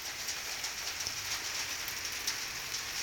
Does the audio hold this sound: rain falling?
yes